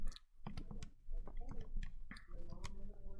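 Calculator keypad being tapped to enter a number, a quick run of soft, close plastic clicks in an uneven rhythm, quiet and without speech.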